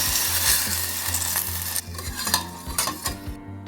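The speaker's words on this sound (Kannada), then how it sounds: "ಒಗ್ಗರಣೆ ಹಾಕ್ತಾ ಇದ್ದೀನಿ ಸಾಸಿವೆ ಮೆಣಸು ಎಣ್ಣೆ ಮತ್ತು ಸ್ವಲ್ಪ ಇಂಗು ಇದರ ಒಗ್ಗರಣೆ ಮಾಡಿ ಇದ್ದೀನಿ" Mustard seeds, pepper and asafoetida sizzle in hot oil for a tempering, a close steady crackle with repeated stirring scrapes and light metallic clinks of a spoon against the pan.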